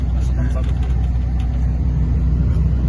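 A long-haul truck on a rough, potholed road on a run toward Poland rumbles steadily from inside the cab, with a close, continuous low engine and road drone throughout.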